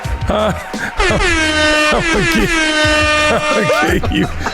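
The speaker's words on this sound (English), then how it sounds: "I'm gonna give you that air horn" Loud, sustained air horn blasts sounding repeatedly in long bursts, overlapping with excited talk and cheering between the blares.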